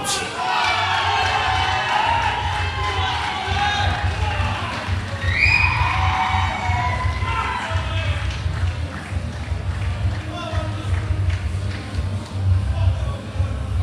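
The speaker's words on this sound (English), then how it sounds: "Big round of applause and welcome to the stage, Tony Pincher Wood." A darts crowd at a championship tour event applauds and cheers as a player is welcomed to the stage, sustained clapping with whoops and shouts over a low hum, and voices mixed in.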